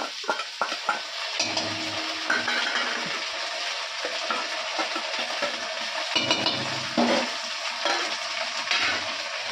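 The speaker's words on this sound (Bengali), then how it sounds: "পেঁয়াজটা আমার ভাজা ভাজা হয়ে গেছে তো এখন আমি মশলাগুলো দিয়ে দিই এক এক করে" Spices are added one by one to fried onions in a hot pan for mutton curry, bringing a steady sizzle with clinks and scrapes of stirring, louder bursts partway through, and no talking.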